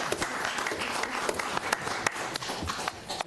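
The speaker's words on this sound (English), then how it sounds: "Is there any clapping to be done here?" Applause breaks out in a city council meeting after a measure passes, a moderate, steady patter of clapping from a small crowd with a few sharper individual claps.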